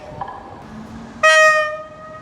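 A Husarz electric locomotive at a station in Katowice, Poland, with low rumbling rail noise that gives way to a sudden loud, sustained horn blast which fades slowly.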